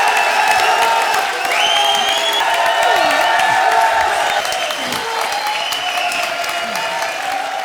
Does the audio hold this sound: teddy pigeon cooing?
no